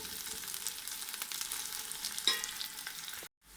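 Chopped onions fry in a pan to light brown with a steady, dense sizzle and crackle that continues until it cuts off abruptly near the end. No voices.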